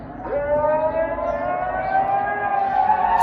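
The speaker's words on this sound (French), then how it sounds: "C'est le test des alarmes, des sirènes en Suisse." Swiss civil defense siren sounding during the national alarm test, a loud, steady rising wail with strong harmonics that holds throughout, no voices over it.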